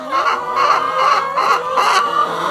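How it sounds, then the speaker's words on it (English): A flock of chickens clucks and squawks in a loud, close racket, agitated by strange newcomers among them, with repeated bursts of overlapping calls and a rooster's crow-like cry rising through. "they're making a lot of racket because you have some strange chickens among them"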